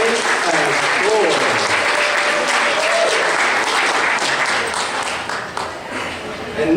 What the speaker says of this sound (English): one more round of applause for Asgardian Ace as Thor